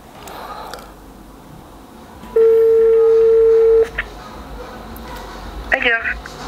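A telephone rings out during a prank call: a single long, steady tone holds for about a second and a half, with background rustling and faint sounds around it.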